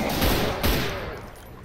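Gunfire from an enemy in Brutal Doom on Ultra Violence: two loud, close bursts of shots roughly half a second apart over a dense, noisy rumble.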